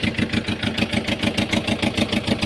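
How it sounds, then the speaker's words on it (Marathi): A Ruston two-cylinder diesel engine on a fishing boat runs steadily, its loud, close, even chugging pulse filling the air with no voices. "मित्रांनो इंजिनचा आवाज असल्यामुळे काय आवाज क्लिअर येणार नाही"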